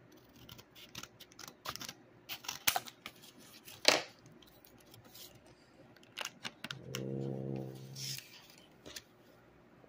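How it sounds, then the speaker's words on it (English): Scissors snip through a trading card in a quiet room. Several sharp, close cuts come in an irregular rhythm, with a brief low hum partway through. "I'm just cutting with scissors."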